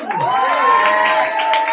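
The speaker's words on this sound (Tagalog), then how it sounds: "Mahina yung palakpak natin, mga kapatid." A church congregation cheers and shouts loudly, a dense crowd roar with many voices rising in whoops, steady and close throughout.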